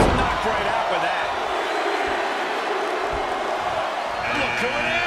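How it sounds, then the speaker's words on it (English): A loud video game wrestling arena crowd roars steadily with cheering and clapping during a royal rumble, while thuds and a voice sound beneath it. "Listen to this crowd count the next one in."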